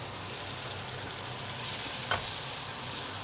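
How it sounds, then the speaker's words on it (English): Steak frying in butter in a hot pan gives off a steady, soft sizzling hiss that continues throughout, with one brief sharp tap near the end. "And just get that butter moving around the steak."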